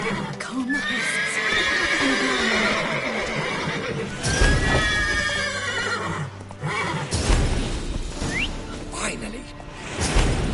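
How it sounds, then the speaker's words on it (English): Horses neighing and whinnying in a video game, with clip-clopping hooves, whooshes and background clatter, loud and continuous throughout with voices speaking at times. "Calm the horses."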